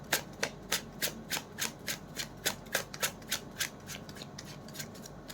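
Tarot cards shuffled by hand in a steady run of about twenty crisp riffling bursts, close and regular, with no talking.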